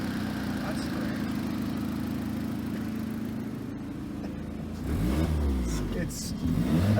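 A 2008 Opel Astra with an exhaust leak idles steadily, then accelerates with a sharp rev near the end, the engine loud and close.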